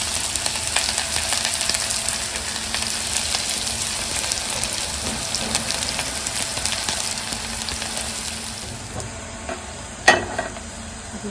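Onion and curry leaves frying in hot oil for chicken masala, a loud, continuous close-up sizzle and crackle that holds steady before easing, with a sharp clatter near the end.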